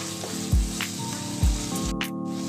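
Red lobia beans (cholafali) and vegetables cook in a pan with red chili, turmeric and coriander powder, giving a steady sizzle and frying crackle, broken by a few soft thumps of stirring.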